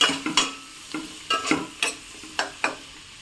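Onions and coriander stirred in a pan for egg biryani, with a spoon scraping in about eight distinct strokes over a soft, steady sizzle, close up and alone.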